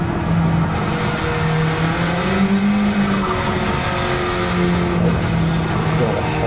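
A modified Honda Civic Type R FK2, front-wheel drive, on a track lap: a steady, loud engine drone with shifting pitch and road noise, heard close from onboard, with faint voices underneath.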